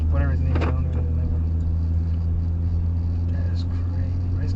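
Car with a straight-pipe exhaust, a heavy, steady low engine rumble idling nearby, with people talking over it at the start.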